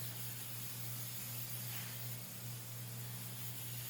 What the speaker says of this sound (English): spray the activator down on the blue tape itself.